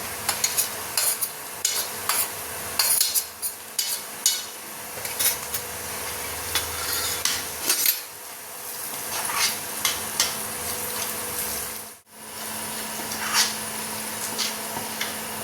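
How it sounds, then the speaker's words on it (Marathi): Onion and red chili masala stir-fry in hot oil, with a steady close sizzle under repeated scraping and clinking of a spoon against the pan, briefly pausing near the end. "चटणी चांगली तेलात परतली गेली आहे।"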